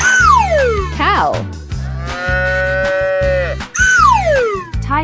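A cow in a 3D animal slide game gives a long, steady moo in the middle, framed by whooshing slide effects and cheerful looping game music.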